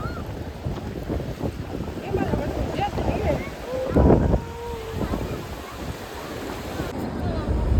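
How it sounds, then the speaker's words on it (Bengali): Cold sea wind gusts across the microphone at Digha beach in the morning, with waves washing in beneath a broad rushing roar; faint voices mingle in the background. "সমুদ্রের এই ঠান্ডা হাওয়া খেতে খেতে"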